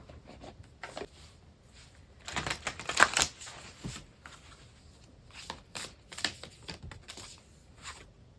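Moonology oracle cards being shuffled by hand, a run of soft papery riffles and slaps with a busier flurry midway, close and fairly quiet with no talking.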